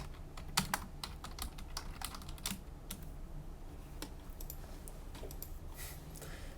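Someone types on a computer keyboard during an online chemistry lesson, quick, light key clicks in irregular bursts with a few louder taps, close but faint, no talking.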